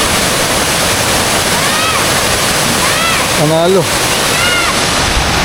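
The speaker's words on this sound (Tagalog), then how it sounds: "yung Tinuyan Falls. Punong-puno yan ng tubig." Tinuyan Falls, full of water, pours in a loud, constant broadband roar that fills the whole stretch, with a person speaking briefly over it.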